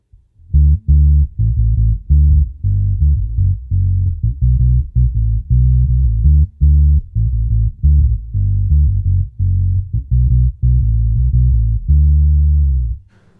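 Epiphone Newport vintage short-scale bass with the tone knob rolled fully off, playing a dark, deep, bass-heavy line of steady repeated notes with short gaps, loud and close, no voices.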